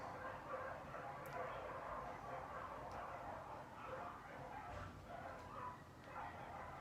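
Dogs barking and yipping somewhere nearby indoors, a few scattered barks over a steady background hiss, moderately faint.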